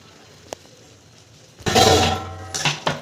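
Goat blood fry is stirred in a cooking pan, with a single early clink and then bursts of loud metal scraping and clanking close by, separated by quiet gaps.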